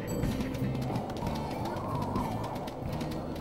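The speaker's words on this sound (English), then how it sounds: "Hi, bird." A bird in the video game WolfQuest repeats soft cooing calls in a steady rhythm, fairly close and clear over a low ambient background, with no talk.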